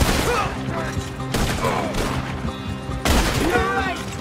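Gunfire in a Red Dead Redemption 2 shootout, a dense, continuous barrage of overlapping shots and impacts with louder bursts at intervals, mixed under shouted voices and game sound.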